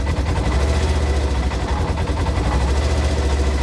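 A 2022 Polaris RZR Trail S engine with a misfire runs with a loud, steady low rumble and heavy vibration, close up, holding fairly even without a clear rise in pitch.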